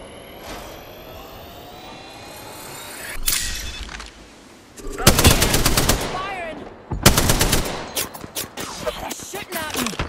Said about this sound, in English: Firing! They're shooting at me.